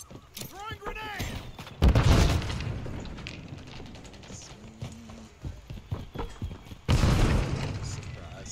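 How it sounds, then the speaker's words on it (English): A grenade going off in the online shooter map Boathouse: two heavy, booming blasts several seconds apart, with clicks and scattered game effects in between and a voice talking during the action. "Throwing grenade!"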